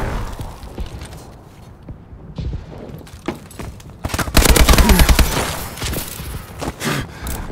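Shotgun and other gunfire in a video game, dense bursts of shots and impacts that swell loud midway through, mixed with game noise.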